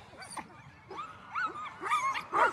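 Sled dogs waiting at the start line of a race in Willow, Alaska, whine, yip and whimper in rising, restless calls, several voices close by and growing louder toward the end.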